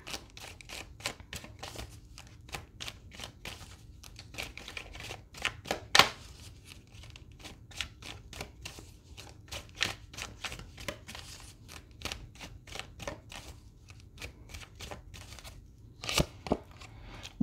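A deck of oracle cards is shuffled by hand in a long run of rapid, crisp riffling clicks and soft flutters, close and fairly quiet, with a few louder snaps along the way and no speech.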